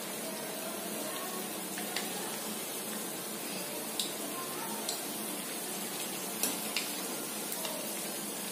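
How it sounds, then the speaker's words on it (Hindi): Aloo kachoris fry in a kadhai over a low flame, giving a steady, soft sizzling hiss. A few faint pops and ticks break through at intervals, and no one speaks. "तो हम इन सारी कचौरियों को इसी तरह से लो फ्लेम पे अलट पलट कर क्रिस्पी होने तक पकाएंगे"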